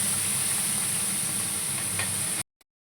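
Cauliflower florets sizzle steadily in hot mustard oil in a wok for a tangra fish and cauliflower curry. The even, bright frying hiss runs close and constant, then cuts off abruptly near the end.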